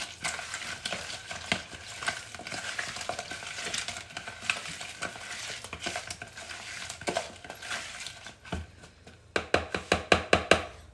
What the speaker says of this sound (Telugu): మంచిగా కలుపుకోవాలి ఉప్పు పసుపు అంతా పట్టేట్టుగా